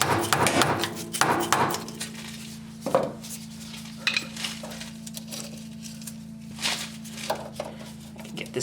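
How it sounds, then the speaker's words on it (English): A screwdriver is tapped against a sway bar bushing on a Honda Accord, giving a few sharp metallic clinks spaced apart over a low steady hum. "Screwdriver put in there and give it a few taps."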